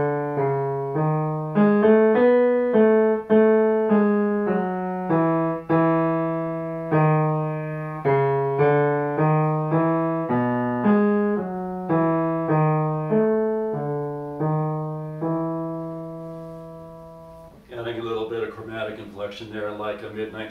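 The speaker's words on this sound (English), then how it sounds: "So here's my second voice now to Twinkle Twinkle Little Star." A second counterpoint voice played with the Twinkle Twinkle Little Star melody: two clear sustained-tone lines moving together in steady, evenly spaced notes. A voice enters briefly near the end.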